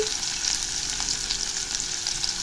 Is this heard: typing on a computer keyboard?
no